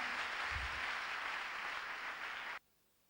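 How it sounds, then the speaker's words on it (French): A church congregation at a preaching service applauds and cheers loudly and steadily as one dense roar, which stops abruptly after about two and a half seconds. "Acclame fortement Jésus."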